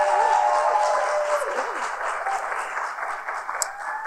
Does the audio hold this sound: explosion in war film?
no